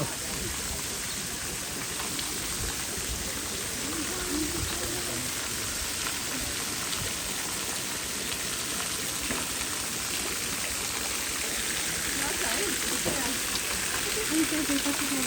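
Water pouring from stone spouts at Muktinath Temple, a continuous dense splashing hiss that holds steady throughout, close and fairly loud, with no voices clear.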